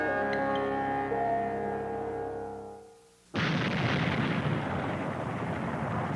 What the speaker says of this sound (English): Indonesia's Krakatoa erupted with an explosion considerably larger than this one recorded in 1927